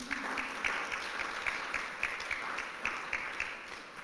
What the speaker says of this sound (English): How about a big round of applause for my daughter?